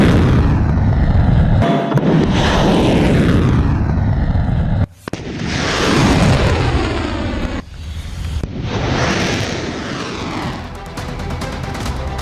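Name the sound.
missile strikes and explosions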